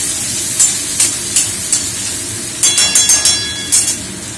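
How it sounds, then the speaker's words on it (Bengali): Chopped onions fry in a wok of hot oil seasoned with five-spice and dried chillies: a continuous bright sizzle broken by sharp metallic clinks of the spatula against the wok, some in quick bursts. "পেঁয়াজ কুচোগুলো একটু ভাজা ভাজা করব।"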